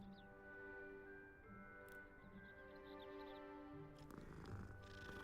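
A video game cat, in Hogwarts Legacy, purrs softly and steadily at low volume as it is petted, with a few faint ticks and a brief rustle near the end.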